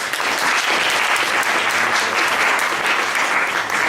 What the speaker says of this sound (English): big round of applause for Shreya